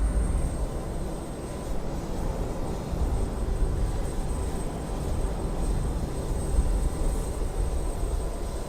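A Northwest Airlink Avro RJ85 airliner in Microsoft Flight Simulator 2020 pushes back at Detroit, giving off a steady, even engine drone with a thin high whine held throughout, and no voices.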